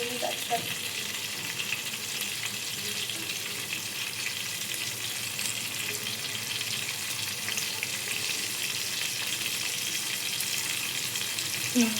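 Eggplant pieces fry in hot oil with a continuous close, crackling sizzle that holds steady throughout, with occasional faint stirring noises underneath.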